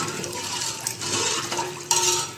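A spoon stirs buttermilk curry for Kathiyawadi dhokli nu shak in a metal pot, making soft scraping and clinking strokes with one sharper knock near the end.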